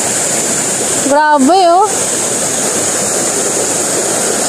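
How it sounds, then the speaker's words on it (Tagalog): A flowing stream or river where people do laundry by beating clothes, with steady rushing water throughout and a short burst of talk partway through. "At running water"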